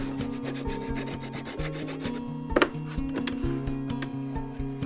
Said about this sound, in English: this bottom bit we can sand and round off in any way we like